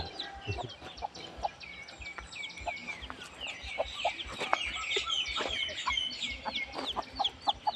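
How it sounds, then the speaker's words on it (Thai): A group of chickens clucks steadily nearby at a Thai temple in the morning, overlapping calls with scattered louder squawks throughout. "ก็ไก่ก็มารอเหมือนกัน"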